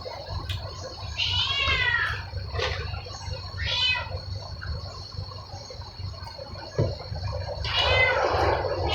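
A cat meows several times in drawn-out, rising cries, close by, over a low steady hum with faint clinks in between.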